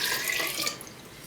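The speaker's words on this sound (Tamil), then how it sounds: "இது ஃபுல்லாக நம்ம தண்ணி ஊற்றிடலாம்." Water splashes steadily into a pot for sweet pongal, a short, close, continuous pouring hiss that trails off slightly.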